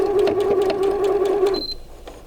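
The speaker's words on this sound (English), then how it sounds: "And then sew all the way until you go off of the fabric." A sewing machine runs a steady, close-up stitch through fabric for a bowl cozy, humming evenly and then cutting out and winding down near the end.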